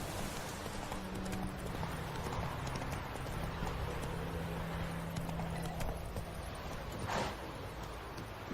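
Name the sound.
horse galloping in video game The Witcher 3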